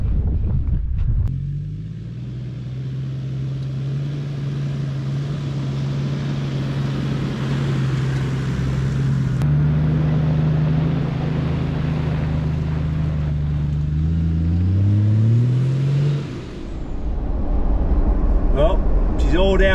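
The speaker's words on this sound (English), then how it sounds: "This is the sort of driving that the Troopy loves." Toyota Troopy four-wheel drive descending a steep 8 km mountain track, its engine a steady low drone with gear whine that shifts pitch partway through, under continuous talk.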